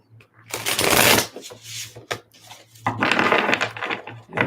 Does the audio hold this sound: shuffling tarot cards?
yes